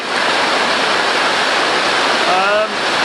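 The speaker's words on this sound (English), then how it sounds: "the cascading water coming down across the rocks here" A waterfall cascades over rocks on the Watkin Path in Snowdonia, a loud, steady, close roar of rushing water filling the whole clip, with a brief voice briefly audible near the end.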